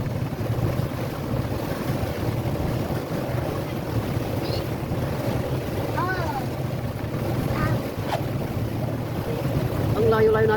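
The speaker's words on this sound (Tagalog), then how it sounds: "Mahangin na, oh." Steady wind rushes and buffets the microphone outdoors on a sea tour in the Sai Kung area, with a low rumble underneath and a few faint distant voices and chirps.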